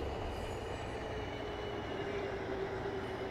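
Trains roll through a train yard in the video game Cities: Skylines, a soft steady rumble of wheels on rails with a faint squeal rising near the end, heard alone and at a low level.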